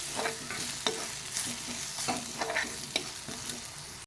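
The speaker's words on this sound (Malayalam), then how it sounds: "ഇത്രയിട്ട് ഇതിൻ്റെ പച്ചവാസന പോകുന്നത് വരെ നന്നായിട്ടൊന്ന് വഴറ്റി എടുക്കാം." Turmeric and chilli masala mix is sautéed and stirred in a pan for a bread pizza filling: steady close sizzling with repeated scraping and stirring strokes, no voices.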